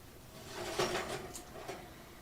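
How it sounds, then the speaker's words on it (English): An oven door swings open after a timer, giving a short muffled clunk and a light rattle, close by and fairly quiet. "Let's open the door and see what we have so far."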